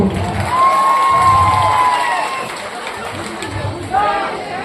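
An audience at an Odia folk theatre stage show bursts into cheering and applause, with shrill whistles and shouting voices rising over a steady crowd roar.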